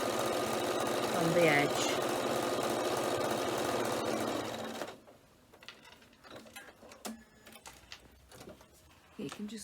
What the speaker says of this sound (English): press that one in half and I'm going to top stitch along this edge.